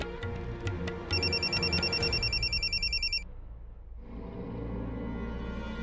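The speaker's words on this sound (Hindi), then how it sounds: "युग का फोन इस वक्त?" A telephone rings with a rapid electronic trilling tone in a bursting pattern for a few seconds, then stops, over a background music bed in a Hindi TV serial scene.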